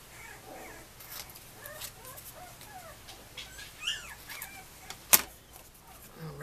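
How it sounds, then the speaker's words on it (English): Puppies yelp, whimper and bark from somewhere nearby, faint and scattered across the moment, with one sharp louder yelp near the end and no one talking. "Roxy must have left the puppies because they're having a fit."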